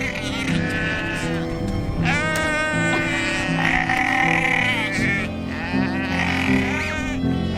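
A herd of Maasai goats arriving fills the air with loud, overlapping bleats, several animals calling close by in repeated bursts over a busy outdoor background.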